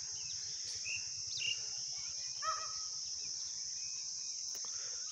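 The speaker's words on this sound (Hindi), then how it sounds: "सुबह सुबह बहुत शांत माहौल है, ज़्यादा आवाज़ें भी नहीं आ रही किसी की, इन पक्षियों की इनकी आवाज़ आ रही" Morning outdoors in summer heat: a few faint bird chirps and short calls over a constant high insect drone, fairly distant and quiet.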